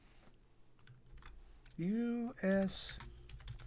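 Soft computer keyboard typing sits faint under the sound, interrupted by a short spoken word partway through.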